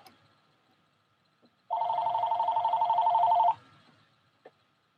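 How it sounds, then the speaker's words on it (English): A phone rings once in a sustained electronic trill lasting about two seconds, fairly close, in an otherwise quiet room. "There's my phone ringing."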